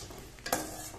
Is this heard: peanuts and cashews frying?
yes